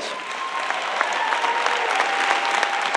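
A university chapel audience applauds warmly to welcome a guest preacher, a dense, even burst of clapping with distinct individual claps popping through, no voices above it.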